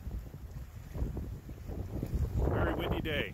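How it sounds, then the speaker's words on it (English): Gusty wind in the Algonquin Park backcountry buffets the microphone in low rumbling bursts, growing stronger toward the end. "really windy out there today"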